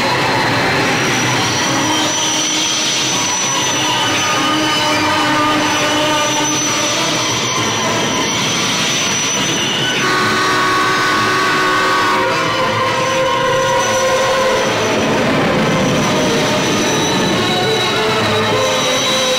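A train rumbles steadily along the tracks, loud and close, with metallic squealing and tonal whines from the wheels throughout.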